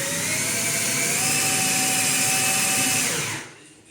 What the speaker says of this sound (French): Donc je vais percer à 10